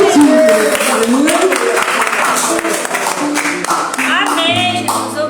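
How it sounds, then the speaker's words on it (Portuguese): Congregation applauding in a church service, broad steady clapping filling the space with singing or music tones and voices over it throughout. "Aplauda ao Senhor, porque Ele é digno."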